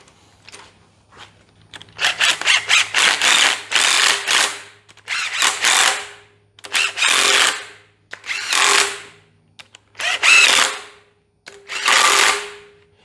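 Ratchet wrench tightening rocker arm shaft bolts on a Ford 200 cubic inch inline six from a 1978 Fairmont, heard as about seven bursts of rapid clicking ratcheting, close and fairly loud, separated by short pauses.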